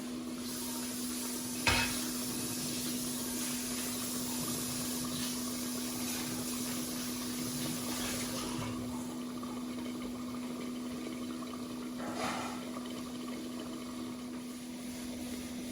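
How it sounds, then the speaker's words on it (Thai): A pot of coconut milk curry with fish simmers over low heat, a soft, continuous bubbling hiss over a low steady hum, punctuated by a couple of faint clinks. "ได้ยินเสียงเดือดไหมคะ"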